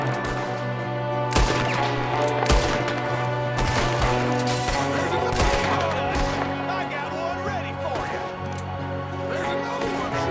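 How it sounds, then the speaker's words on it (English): Sharp gunshot cracks from a Red Dead Redemption 2 shootout, several loud reports spaced irregularly over steady background music and ambience, with occasional voices in between. "There's another one shooting from the window."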